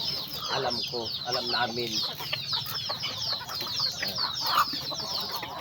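Chickens and chicks clucking and peeping close by while being fed, a busy continuous chorus of clucks and high cheeps with some wing flapping, and a person speaking briefly over the flock.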